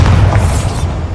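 A spell explosion in the Hogwarts Legacy video game, a dense, loud low-frequency boom that rumbles steadily for about a second with no voices over it.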